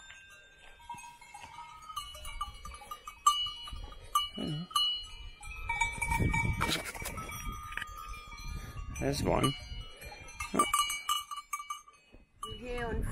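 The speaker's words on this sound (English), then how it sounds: "It's cows and horses." Cows and horses mixed together on pastureland in Austria, with clanking bells and occasional animal calls over steady outdoor noise and a brief spoken remark.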